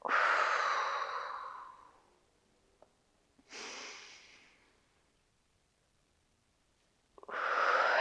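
Slow, deep breaths during a prenatal or postpartum ribcage mobility exercise, three long airy exhales close to the microphone separated by quiet pauses.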